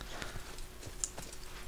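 Horse hooves clip-clopping at a steady walking rhythm in Assassin's Creed 2, a string of soft, evenly spaced thuds close by over a low game ambience.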